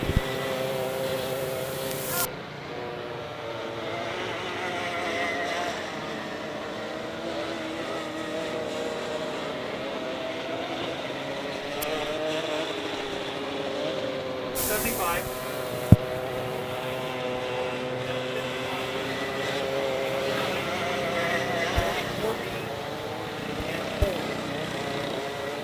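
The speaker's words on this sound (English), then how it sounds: "And Callie, in her first racing experience on a kart, is rounding out the field." Racing karts circle the track at Honor Speedway on Mechanics Night, their engines a steady, droning buzz at mid distance for the whole stretch, with voices talking over them.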